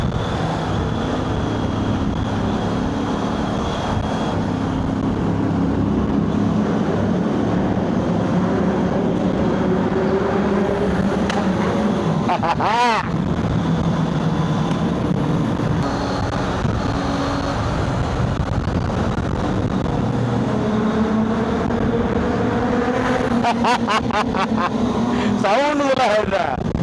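A Triumph Tiger 800 motorcycle rides through a tunnel, giving a steady, loud engine and wind roar that fills the space while a rider talks over it throughout.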